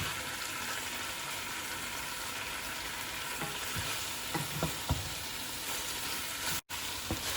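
Chicken pieces sizzle and fry with spices in a pan for a Saudi kabsah, a steady broadband crackle with a few scraping turns of a utensil near the end and one brief dropout.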